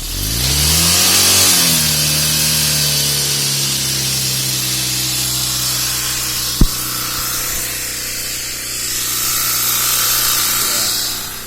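A car engine revs up and holds steady while its exhaust is used to pump air, loud and close, easing off later with a sharp clack in the middle; no speech over it.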